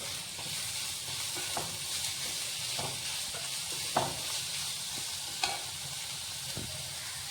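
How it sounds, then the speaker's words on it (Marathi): Vegetables and chili sautéing in a pan for a Manchow soup, with a steady broadband sizzle and occasional clicks from stirring and the spatula. "आणि मिरची हे 2 मिनिटं मी परतून घेणार आहे"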